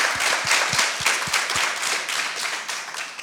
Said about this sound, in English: So let's give Dodie a round of applause.